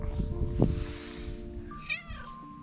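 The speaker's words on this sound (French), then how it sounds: "Et j'ai un compagnon avec moi, un chat allemand." A German cat gives a couple of short, close meows, the second rising and tonal, over a faint background hum.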